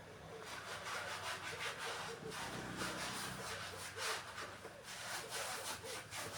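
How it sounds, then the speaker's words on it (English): Scissors cut a dress armhole curve through fabric, a run of close rhythmic snipping and rustling strokes with no talk. "It's trying to do my armhole curve, and then I'm going to cut it"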